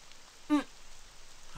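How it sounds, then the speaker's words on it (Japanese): Steady rain falls in an Animal Crossing horror game, a soft even hiss throughout with one brief tonal chime partway through. "雨降ってんなえ、雨降ってる。"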